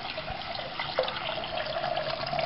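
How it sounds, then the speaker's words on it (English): Water runs steadily from a tap into a pot of rice, a continuous close splashing stream with no talking. "You put your rice in the pot, and then you add water up to your first knuckle."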